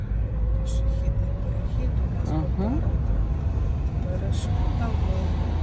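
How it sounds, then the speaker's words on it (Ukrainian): A manual-transmission car's engine roars steadily during a driving lesson, a constant loud low drone with passing road noise and people talking inside the cabin. "А машина оре."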